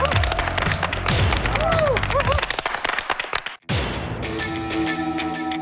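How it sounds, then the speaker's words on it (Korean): A group applauds and claps on a Korean variety show set, a burst of close claps mixed with laughter and chatter, then a cut to softer background noise. "박수 한번 주세요"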